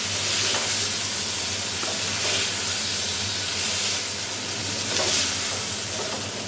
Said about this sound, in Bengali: নারকেল ভেজে নেব।